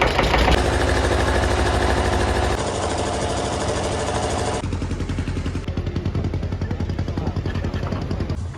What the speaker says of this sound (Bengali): আবারও চলে এসছে নৌকা।